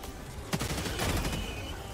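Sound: gunfire in video game Helldivers 2

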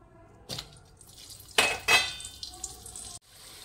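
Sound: onions frying in butter and oil in a kadhai

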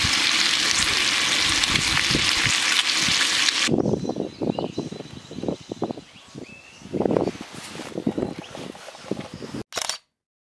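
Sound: bacon frying on a mini stove

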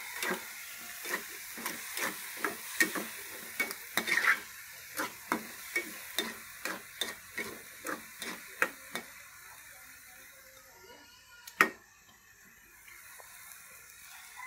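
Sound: stir-frying with a little sugar in a pan

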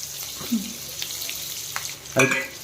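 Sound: onions and green chilies frying in pan

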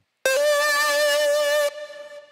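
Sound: Alchemy Sweet Lead synth preset, bright and aggressive

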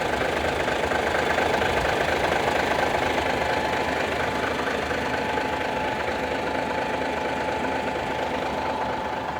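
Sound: truck engine idling

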